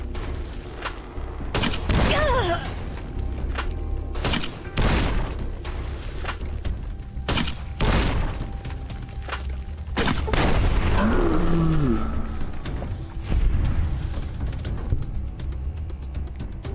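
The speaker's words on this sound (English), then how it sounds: "perfect for the grenade rifle" Grenade rifle shots and explosions in Fallout: New Vegas, a series of loud booming blasts at irregular intervals over about sixteen seconds, with some sharp zipping game effects between them and no talking.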